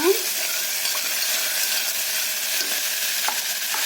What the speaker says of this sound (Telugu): అల్లం ముక్కలు కరివేపాకు టమాటా వేసుకోవాలండి ఒకసారి కలుపుకుందాము